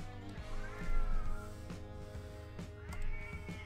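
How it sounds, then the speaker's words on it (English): A pet cat meows twice during a quiet art livestream, each call a drawn-out, rising-and-falling cry heard close to the microphone over a steady low background hum. "Oh, there's the cat."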